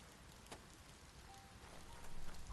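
Steady rain pattering across a wet outdoor scene in the video game Biomutant, a soft continuous hiss with light droplet ticks that swells slightly toward the end.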